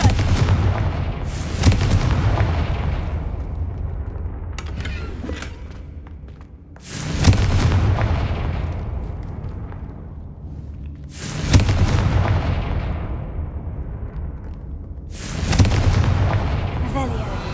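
Confringo fire spell blasts in the game Hogwarts Legacy: four loud, booming explosions at regular intervals, each with a sharp impact that trails off into a long, fading rumble.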